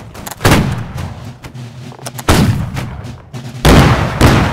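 Napoleonic-era musket volleys crack out in Holdfast: Nations at War, several loud, close bursts of gunfire a second or two apart, each trailing off into rumbling echoes with no talking over them.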